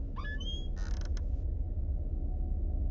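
A swing in the Elevator Game with Catgirls video game gives a few short, squeaky creaks in the first second and a half, then the scene settles into a low, steady ambient hum.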